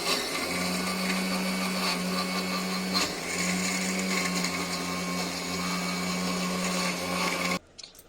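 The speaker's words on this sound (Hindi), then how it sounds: "अब मैं इसको बस ग्राइंड कर दूंगी, और ग्राइंड में ये मैं लहसुन डालूंगी" Electric grinder whirring steadily as it grinds chana and urad dal with garlic, dried red chillies and ginger, a loud continuous motor hum lasting several seconds before cutting off abruptly at the end.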